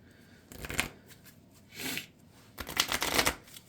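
Playing cards shuffled during a Marvel Champions card game, heard in three short riffling bursts with brief pauses between, close and clear with no talking.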